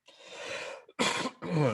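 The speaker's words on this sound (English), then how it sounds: "when I cough, my chest hurt a little bit" Close, breathy throat-clearing followed by two sharp, raspy coughs in quick succession.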